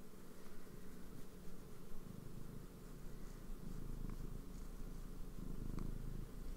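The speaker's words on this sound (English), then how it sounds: "Can you at least purr for them?" A cat purrs close up in a steady, continuous low rumble that carries on throughout without pause.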